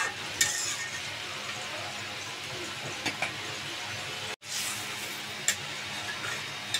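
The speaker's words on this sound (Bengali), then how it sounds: "তরকারি জোর ফুটে গেছে" Water with salt boils vigorously in a pan for a fish and eggplant curry, a constant close hiss with occasional small pops and a brief clatter.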